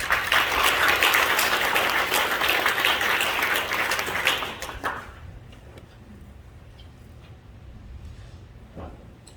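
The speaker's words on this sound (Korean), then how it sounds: "우리 장로님 나오실 때로 박수 주시기 바랍니다" A Korean church congregation at a 45th-anniversary ordination thanksgiving service claps loudly and steadily as an elder comes forward. The applause dies away after about five seconds into quiet room sound.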